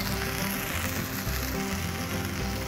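Hamburger patties searing on a Blackstone griddle, a dense, loud, continuous sizzle heard up close with no voices over it.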